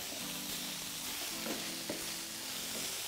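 Steady sizzling of food frying in a pan, a bright continuous hiss with occasional soft clicks and stirring scrapes, no voices.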